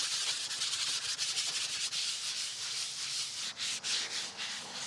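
A sponge soaked in mineral spirits scrubs the greasy surface of a backyard offset smoker, giving close, continuous rasping rubs in a steady back-and-forth rhythm.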